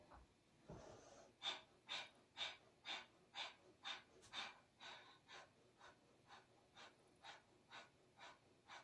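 Breath of fire yoga breathing: after one soft inhale, about a dozen quick, forceful exhales follow in an even, steady rhythm, close and clear, with nothing else heard.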